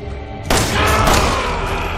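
Two sharp, loud gunshot bursts from Resident Evil 7 ring out in quick succession, each followed by a rumbling echo.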